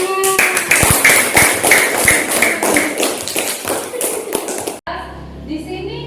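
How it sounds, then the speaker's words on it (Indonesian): Hands clapping in a fast, loud, steady burst close by, with a voice over the opening and a brief drop into quieter talk near the end. "Ya, tepuk tangan."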